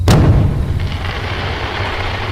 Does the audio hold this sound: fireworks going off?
yes